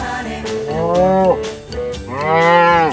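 A dairy cow on a farm lets out two loud, close moos, the second longer and fuller, with a brief pause between them.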